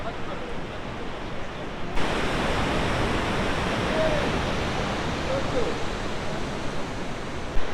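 Steady rushing roar of the Saraswati river flowing near Mana village in the mountains, a dense continuous wash of water that grows louder after a moment and stays constant.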